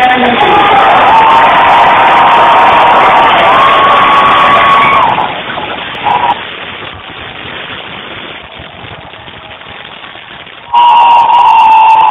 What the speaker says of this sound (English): With a show of applause, let's welcome Dan the Man.